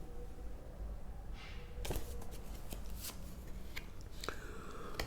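Tarot cards being shuffled and drawn by hand, a run of quick papery riffles and flicks with a couple of sharp snaps, close and fairly quiet, with no voice over it.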